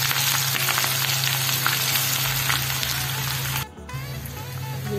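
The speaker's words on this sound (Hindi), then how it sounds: "5 अदद सब्ज मिर्चें ली है, उनको जस्ट हल्का सा फ्राई करेंगे।" Green chilies frying in hot oil with ginger garlic paste, a loud continuous close sizzle with light stirring scrapes, a brief dip near the end before the hiss resumes.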